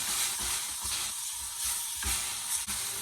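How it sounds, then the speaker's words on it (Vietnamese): Sliced radish seasoned with stock powder, a little sugar and salt is stir-fried in a pan: a steady, close sizzle with repeated scraping and stirring strokes throughout. "Rồi mình xào chín củ cải luôn."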